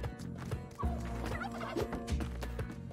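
Turkeys gobble in the video game Spelunky 2, their warbling calls rising over busy game effects and music with a steady low rhythmic pulse, all close and fairly loud.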